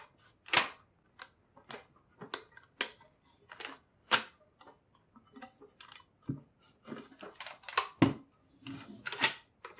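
A Kel-Tec KSG shotgun bolt is worked into its locked forward position during reassembly, giving a close series of sharp metallic clicks and clacks in an irregular rhythm, with no talking.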